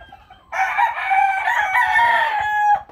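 A caged fighting rooster, one of several derby-winning gamecocks still healing from stitched wounds, lets out a single loud, close crow lasting about two seconds.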